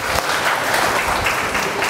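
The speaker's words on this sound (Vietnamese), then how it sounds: "Mình một chào vỗ tay cho anh Kelvin." A dense burst of audience applause for a guest at a classroom judging event, loud and continuous with many hands clapping together, without speech over it.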